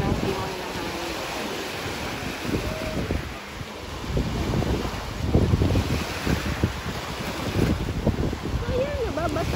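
Cold sea wind blows at a beach at low tide, a steady rushing roar with buffeting on the microphone and the wash of surf underneath, with faint brief sounds scattered through.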